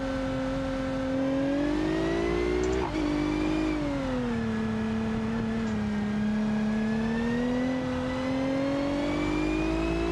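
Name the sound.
car engine accelerating on Nordschleife, BeamNG video game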